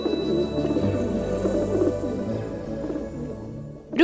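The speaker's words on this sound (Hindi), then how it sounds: "ये मेरा कबूतर है" A pigeon coos in low, rolling repeated calls, close and fairly clear, over a quiet steady background in a Hindi mythological drama scene.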